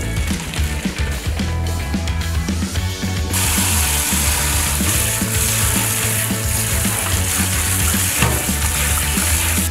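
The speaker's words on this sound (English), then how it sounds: "keep stirring to prevent the noodles from sticking together" Noodles being stirred in a pot of boiling water for Korean bibimguksu, a steady bubbling, scraping texture with faint clinks, continuous and close throughout.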